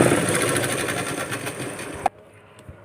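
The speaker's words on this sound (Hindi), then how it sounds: "मैंने इस तरह से सिलाई लगा लिया है पूरे में" A sewing machine stitches elastic onto a saree fabric belt, running steadily and fairly loud with a fast whirring rhythm, then stopping abruptly, leaving near silence and a couple of faint handling clicks.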